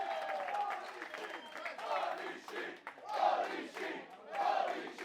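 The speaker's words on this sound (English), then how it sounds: "you can hear the approval, the adulation, the enjoyment from this sellout crowd here in Rome" Sellout crowd at a pro wrestling show in a Rome venue, roaring and cheering in sustained swells that rise and fall, loud and diffuse throughout.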